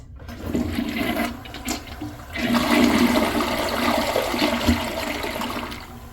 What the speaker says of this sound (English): On an extended flush, it's still pretty crappy due to the deep bowl.